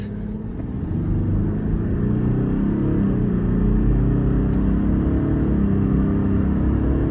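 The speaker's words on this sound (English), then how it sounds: "we can get him to give it a little bit of courage just so we can feel that V6 twin turbo take off" A Toyota Land Cruiser LC300 with a V6 twin turbo accelerates, heard from inside as a low, building engine rumble and whir that swells steadily and holds strong without any talking.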